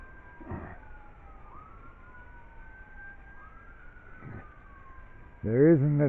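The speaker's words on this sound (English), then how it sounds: "There isn't a day that goes by without hearing sirens in the city" A distant emergency vehicle siren in a city slowly rises and falls in pitch, drifting through steady background noise before a louder burst of sound at the end.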